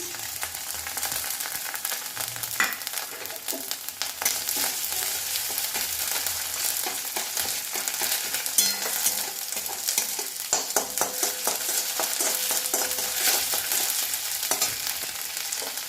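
Prawns frying with ginger paste in a pan, a loud, steady, dense sizzle with constant crackle and occasional stirring scrapes, continuous with no voices.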